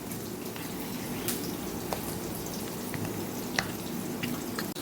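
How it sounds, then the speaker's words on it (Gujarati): Onions sautéing in a pan for Kathiyawadi okra curry, giving a steady close sizzle and crackle throughout with a few faint clinks of stirring. "તો અહીંયા આપણી ડુંગળી થોડી સતળાઈ ગઈ છે"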